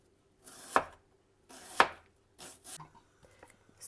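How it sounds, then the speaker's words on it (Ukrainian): A knife cuts an ingredient into thin strips for mushroom lecho, three or four sharp separate chops on a board, close and clear with short pauses between. "І починаю нарізати тоненькими такими смужками"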